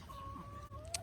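Purebred Polish chickens cluck softly in a backyard coop, with a short, faint, wavering call and a brief sharper squawk at the end.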